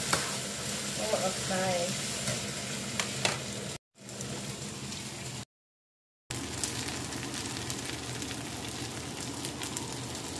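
Tofu frying and spitting in a hot pan, a steady close crackling sizzle broken by two brief cuts, with a voice speaking briefly over it.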